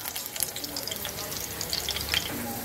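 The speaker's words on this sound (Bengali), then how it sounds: "এখন আমি সেদ্ধ করা আলুগুলো একটু ভেজে নেব।" Boiled potatoes fry in hot oil in a wok, giving a steady soft sizzle with scattered crackling pops, close and fairly quiet, with no talking.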